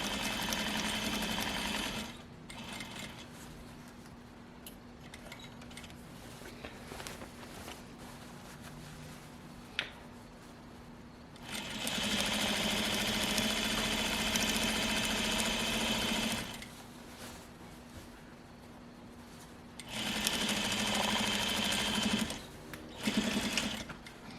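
A sewing machine stitches around the outside edge of pajamas in three sustained runs separated by long quiet gaps with faint handling noises, the motor humming steadily up close.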